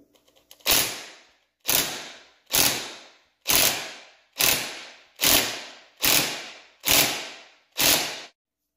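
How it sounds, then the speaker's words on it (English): A small impact wrench hammers at a tight front differential plug in eight evenly spaced, loud bursts of about half a second each, with short pauses between them and no talk. "with my small impact, I'm hoping that I can just kind of rattle it loose here"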